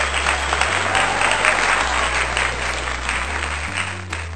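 An audience claps for two expert scientists at a reading club event, giving a steady wash of applause that holds for several seconds over a low droning hum.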